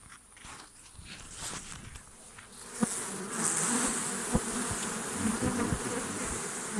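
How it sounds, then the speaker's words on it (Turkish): Bees buzz continuously close by, a dense hum that grows louder partway through, with a few faint taps and knocks underneath. "Muratçım şuraya bir arının sesini alabilir miyim?"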